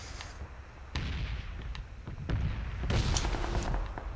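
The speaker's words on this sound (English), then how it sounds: "Oh, I hear gunshots." Distant gunfire in the PUBG battle royale game, heard far off: several separate sharp cracks and thumps spaced irregularly over a low rumbling bed, moderately loud with a denser cluster toward the end.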